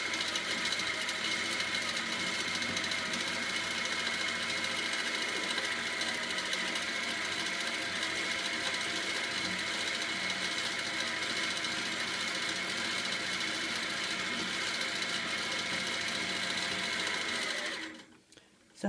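A sewing machine runs fast while couching yarn onto a quilt, making a continuous rapid mechanical whirr and needle chatter that holds steady, then stops abruptly near the end.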